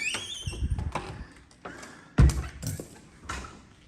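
A door is opened indoors with a few scattered knocks and clunks, then one heavier thud partway through, all fairly close and moderately loud.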